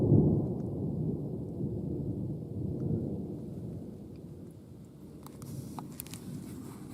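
Thunder rolls low and heavy through the sky as a storm approaches a forest, a long rumble that fades slowly, with a few faint clicks near the end and no voices.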